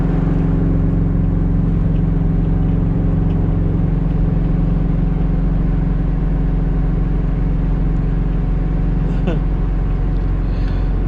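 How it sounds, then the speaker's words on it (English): Steady in-cabin drone of a Honda Integra with a B20V engine cruising on the road after a dyno session, a constant low engine and road hum with little change, loud and close throughout. "Well, guys, we're off the dyno and we're heading home."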